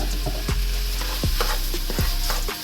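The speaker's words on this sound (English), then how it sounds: "And you stir until the rice, turns color" Two cups of rice fry in a pot with a loud, close sizzle, while a spoon scrapes and stirs in regular sweeping strokes about every three-quarters of a second.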